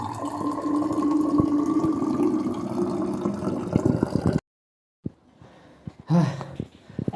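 Tap water runs through a cloth tied over the mouth of a faucet as a filter, making a steady close rush for several seconds before it cuts off abruptly, followed by a few faint knocks.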